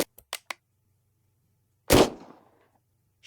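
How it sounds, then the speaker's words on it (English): Gunfire in a crime audio drama: a few short sharp cracks at the start, then one loud, near shot with a decaying echo, over a quiet low hum. "Shit! Gunshots!"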